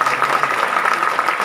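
Steady, dense crowd applause from an audience at a Satnami community spiritual gathering in a village, honouring named guests; close and continuous with no pauses.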